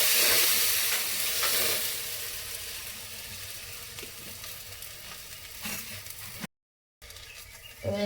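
Flour and egg batter flatbread frying in oil in a pan, a steady close sizzle with some stirring and scraping, briefly cut off near the end before resuming.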